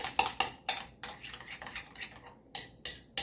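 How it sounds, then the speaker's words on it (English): A spoon clinks and scrapes around a bowl as homemade tartar sauce with lemon juice is stirred, a quick run of close, light taps and scrapes with no talking. "Okay, so we're going to mix that up and see what that tastes like."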